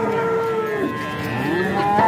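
Cattle lowing at a busy Tajik livestock market, several drawn-out moos rising and falling one after another close by over a steady crowd murmur.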